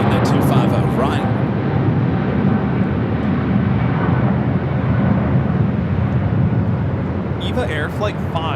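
Eva Air Boeing 777-300ER jetliner taking off from Los Angeles airport, a loud continuous broadband engine roar heard at a distance, with brief radio chatter at the start and end.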